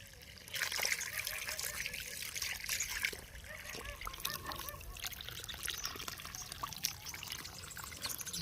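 Water trickles and splashes while cocopeat is being washed to rinse out salt, a soft, continuous dribbling near the microphone, with a faint voice now and then underneath.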